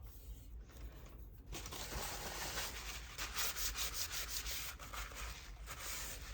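Paper being trimmed for craft pockets and flips: a continuous close, dry rubbing and scraping sound with slight rhythmic pulses, steady and fairly loud throughout.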